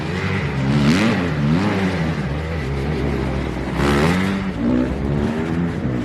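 Four-stroke motocross bike on a dirt track, its engine revving up and down in repeated surges, moderately close and loud, rising and falling with no talk.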